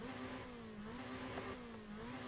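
Ferrari 488 GT3 race car engine in the iRacing simulator at Laguna Seca, a steady droning engine note with slowly shifting pitch held throughout, moderately loud and continuous with no talk.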